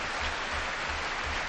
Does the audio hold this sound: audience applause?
yes